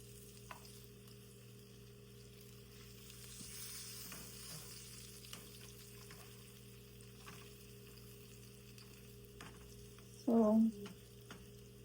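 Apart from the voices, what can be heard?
ravioli frying in oil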